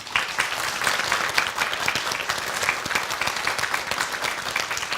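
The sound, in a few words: applause for the contenders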